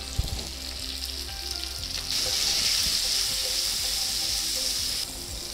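Okra sizzling in hot oil in a pan with a dried red chili, a close, loud hiss of frying that swells after the okra goes in and holds steady, with faint stirring clinks.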